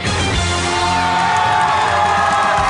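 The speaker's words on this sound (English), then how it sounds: "What a polite crowd." A crowd at a comedy sliding championship on a polished floor cheers and whoops loudly and steadily, a dense wash of voices that runs without pause.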